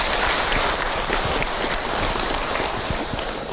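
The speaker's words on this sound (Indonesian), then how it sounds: "Tepuk tangan buat Bunda semua." Applause from an audience of women at a religious talk, a dense hissing rush of many clapping hands, steady and fairly loud throughout, sounding much like heavy rain, with no speech over it.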